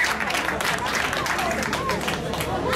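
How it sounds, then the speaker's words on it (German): Audience applause at an outdoor club summer festival in Germany, a dense wash of clapping from a crowd that holds steady throughout with faint crowd murmur beneath. "Euer Applaus, herzlichen Glückwunsch."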